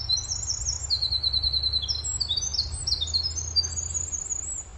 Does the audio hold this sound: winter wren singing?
yes